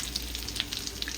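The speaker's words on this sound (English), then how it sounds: "So we have our butter melting. I'll go ahead to add some onion, some chopped onion" Chopped onion sizzles softly in melted butter in a pan, a close, steady fizz dotted with small popping crackles, with no voices.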